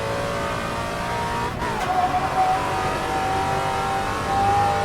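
A vintage Trans Am Challenger race car in Assetto Corsa, its engine droning loud and close, briefly lifting off then revving back up with a rising whine.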